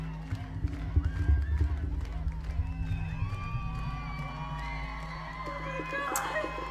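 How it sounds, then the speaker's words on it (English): A live concert audience claps in a steady rhythm and cheers over music, fairly distant in the mix, while a person talks over it. "It does sound like a live album, unless that's fake clapping."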